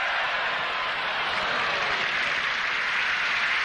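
A football stadium crowd at a 1986 Philips Cup final between Borussia Mönchengladbach and Grêmio applauds after a fine piece of play by Valdo, making a dense, steady wash of clapping and crowd noise from start to end.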